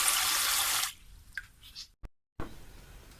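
Water from a homemade faucet made from a bottle neck runs loudly and steadily while dishes are washed, then stops abruptly, followed by a few faint splashes, a brief cutout and quieter trickling near the microphone.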